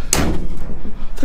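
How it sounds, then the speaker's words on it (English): The doors of a cardboard box fort van close with a sharp, loud thump at the start, followed by a brief low rumble. "The doors are closing."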